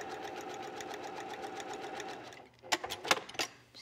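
A sewing machine stitches along bias tape on fragile fabric, a steady rapid whirring hum for a couple of seconds, then stops, followed by a few close clicks and handling knocks.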